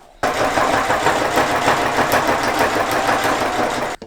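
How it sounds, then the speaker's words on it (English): A sewing machine stitching stiff PVC boat cushion material, a loud, close, continuous motor whir with a fast rhythmic needle beat that starts abruptly and stops sharply about four seconds later. "The PVC material is so much harder to sew."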